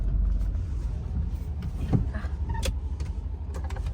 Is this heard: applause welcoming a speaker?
no